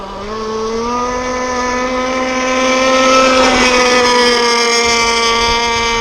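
An RC Zippkits SLR thunderboat running on water, a loud high-pitched engine whine held steady and swelling slightly in the middle as the hull rides past, no voices.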